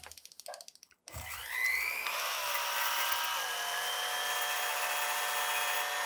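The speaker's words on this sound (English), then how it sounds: "I'll use my rotary tool with a wire brush to remove the green" After a brief clatter, a rotary tool with a wire brush spins up to a steady high whine, rising and settling in pitch as it strips green paint from a Ghostbusters proton pack part.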